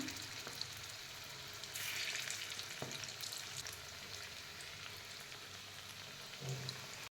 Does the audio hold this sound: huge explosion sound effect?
no